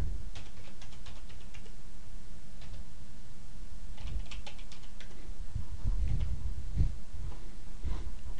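Someone types a password on a computer keyboard, light clicking keystrokes in short irregular bursts close by, with a few heavier taps toward the end and no voices.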